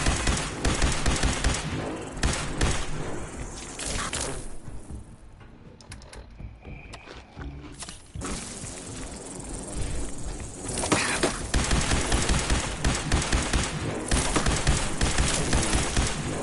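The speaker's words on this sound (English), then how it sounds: "Just shoot these guys, don't try to zoom in" Rapid, relentless gunfire from hip-fired weapons in Fallout 4's Glowing Sea, loud bursts and volleys filling most of the stretch with a brief quieter lull in the middle.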